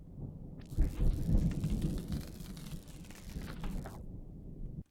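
Thunder in a VR sound design demo, a loud rolling rumble with rain-like hiss that swells, holds for about three seconds, then cuts off abruptly, with no voices.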